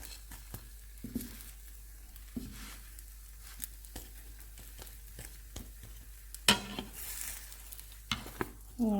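Bread slices toasting in a frying pan for chilli cheese bread toast, with a faint steady sizzle broken by scraping and stirring clatters as the bread is folded and turned, alone without talk.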